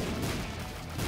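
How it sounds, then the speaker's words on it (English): Dense, continuous explosions from The Binding of Isaac: Afterbirth in Greed Mode form a loud, crackling wall of blasts with no gaps between the bursts. "Man, the explosions."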